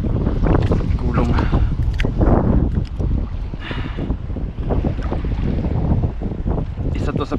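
Strong wind buffeting the microphone out on the water during ultralight fishing, a continuous rough roar with splashes and rattles, with a voice talking at times underneath.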